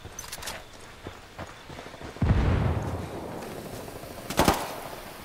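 Gunfire and explosions in the tactical shooter Ghost Recon Wildlands, with scattered sharp shots, a heavy blast around the middle and a final cluster of loud reports over game ambience.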